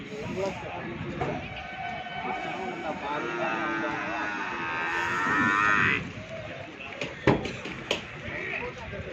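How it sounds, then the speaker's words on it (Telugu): Cows mooing amid the bustle of a busy cattle market selling buffaloes, calves, bulls and Jersey cows, with a long low moo rising over steady crowd noise and people talking, followed by a few sharp knocks and thumps. "ఇదిగోండి ఇవి ఆవులు"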